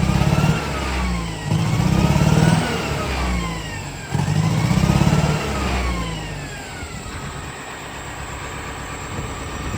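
A machine's engine with a suspected bad injector, fine at idle, revs up and falls back in repeated surges, loud and close, with a rough mid-range drone between the rises.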